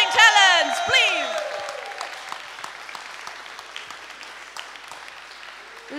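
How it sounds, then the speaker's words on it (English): Dense audience applause fills a hall at a receptionist talent competition, with whoops and cheers at the start, then steady clapping that gradually thins out. "Come on, another round of applause for these 17 amazing talents, please."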